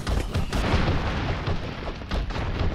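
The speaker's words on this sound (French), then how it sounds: "Allez, explose!" Explosions in the side-scrolling action game BroForce, a loud cluster of booming blasts and crackling bursts following one another rapidly across a few seconds.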